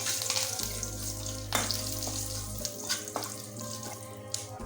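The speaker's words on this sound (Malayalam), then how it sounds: "മുരിങ്ങയില ഇട്ട് കൊടുത്ത് ഒന്ന് വഴറ്റണേ" Drumstick leaves sautéing in a pan for a Kerala-style curry, giving a steady frying hiss with occasional stirring scrapes and a low hum underneath, with no voices.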